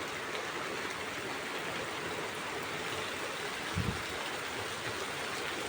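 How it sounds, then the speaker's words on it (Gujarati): Steady, dense rain pours down in a continuous even hiss, with a brief low thump near the end and no voices. "અત્યારે વરસાદ બહુ વધી ગયો છે"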